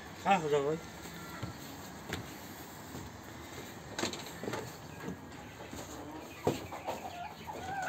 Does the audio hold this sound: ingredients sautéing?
no